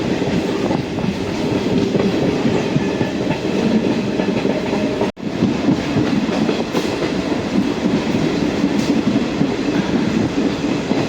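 A small local train on the Dandeli–Alnavar line in India rumbling along the rails with a steady rolling clatter, loud and close, continuing throughout with a brief dropout near the middle.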